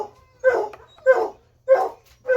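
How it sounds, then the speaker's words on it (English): Dogs give four evenly spaced, loud barks up close, each a short yelping burst separated by brief quiet, with no talking. "I want you to hear him howl, though."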